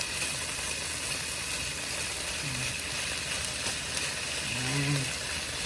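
Chicken pieces sizzle in a pot for chicken soup, a steady close hiss that runs throughout, with a faint voice briefly underneath.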